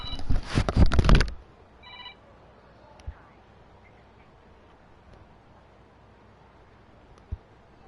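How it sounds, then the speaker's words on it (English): A telephone rings loudly and close for about a second with a short trailing chirp, then the room falls quiet apart from a couple of faint knocks. "Oh my god, the phone rang and it startled me."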